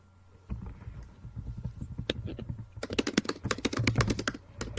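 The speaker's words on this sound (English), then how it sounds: "We can hear Allyn typing" Rapid typing on a computer keyboard during a live online discussion show: close, crisp key clicks in irregular bursts, sparse at first and then a dense flurry, with no talk over them.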